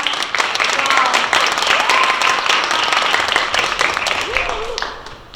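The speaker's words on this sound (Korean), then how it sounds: "예, 큰 박수 부탁드립니다." An audience at a student project presentation contest bursts into sustained applause, many hands clapping steadily for several seconds before fading out, with some voices mixed in.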